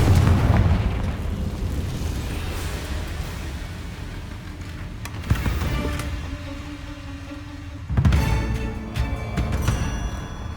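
Confringo blasting-spell explosions in the Hogwarts Legacy video game, with a loud rumbling blast at the start and two more bursts a few seconds apart, each followed by echoing debris.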